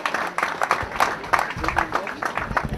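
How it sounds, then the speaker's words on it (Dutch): Scattered outdoor applause from a crowd greeting the third-place rider on the podium at a motorcycle race prize ceremony in Oploo, steady uneven clapping heard beneath a presenter's voice. "Geef ze een geweldige applaus"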